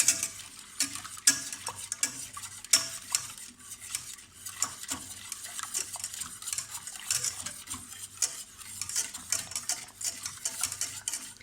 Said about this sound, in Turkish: Ve bu malzemelerimizi karıştırıyoruz tabii ki de.